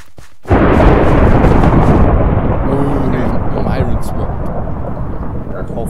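Thunder from a lightning strike in the Minecraft video game: a sudden loud crack that swells into a heavy, roaring rumble and slowly fades over several seconds.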